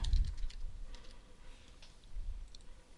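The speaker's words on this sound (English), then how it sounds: "type in your EID password" Soft clicks of fingers typing on a computer keyboard, with a few light key taps near and quiet and scattered thuds low in the background.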